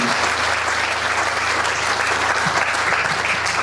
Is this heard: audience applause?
yes